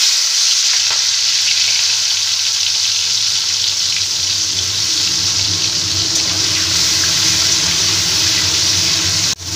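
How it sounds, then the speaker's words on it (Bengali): Prawns coated in salt and turmeric fry in mustard oil, a loud, constant close-up sizzle that runs unbroken and then cuts off abruptly, with no talking. "এবার সর্ষের তেলে আমি চিংড়ি মাছগুলো ভেজে নেব।"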